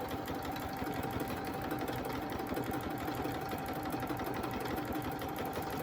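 A sewing machine stitches free motion quilting on a quilt, a steady, fast mechanical chatter running continuously at low to moderate volume.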